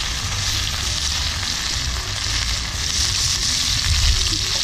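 Oil sizzles and spits steadily while curry paste fries in a pan over a charcoal fire, a dense, continuous crackle that stays loud and close from start to finish, with no talking.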